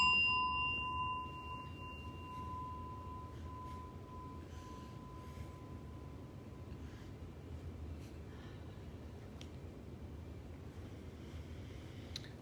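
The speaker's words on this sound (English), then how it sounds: "Final bell." A meditation bell struck once at the close of a Buddhist practice session rings with a clear, pure tone that fades slowly into a quiet room over many seconds, alone and without voices.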